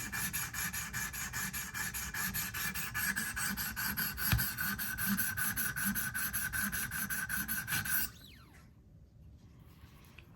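A Sebenza clone knife is sharpened on a 1000 grit whetstone, a rhythmic back-and-forth scraping of steel on stone repeating steadily and close for about eight seconds before stopping, with no talking.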